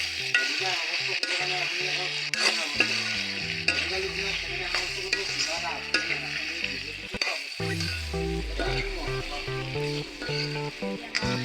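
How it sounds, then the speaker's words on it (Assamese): Chopped tomatoes stirred into a hot pan for an Assamese chicken curry, a steady soft sizzle with scraping spoon strokes, heard under continuous background music. "কাটি লোৱা বিলাহী। অকণমান লৰাই লৈছোঁ।"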